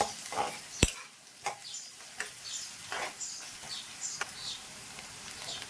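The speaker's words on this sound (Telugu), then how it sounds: "ఆనియన్స్ అనేది మనకి బాగా వేగిపోవాలండి. మనకు బ్రౌనిష్ కలర్ రావాలి ఆనియన్స్ అనేది." Onions frying in a pan until brown, a soft continuous sizzle broken by intermittent scraping stir strokes and one sharp utensil tap near the start.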